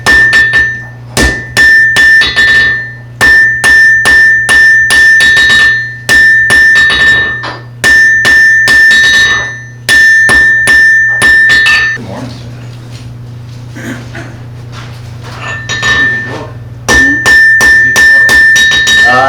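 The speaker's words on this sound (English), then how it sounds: "back to that angled hammer blow, tapering that" At a blacksmith event, heavy hammer blows ring out on hot metal on an anvil in a steady rhythm, tapering the piece with angled strikes, each bright and metallic, with a short pause before the hammering resumes.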